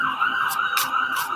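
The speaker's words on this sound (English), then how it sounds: "sorry about the sirens" Emergency vehicle sirens wail from outside, a steady high tone that swells and fades slightly, somewhat distant and muffled indoors, with faint hissy bursts over it.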